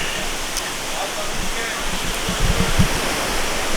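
A fast-flowing stream rushes through a Puerto Rican rainforest, making a steady, loud broadband roar of water close by that fills the whole clip, with a few heavier splashing surges near the end.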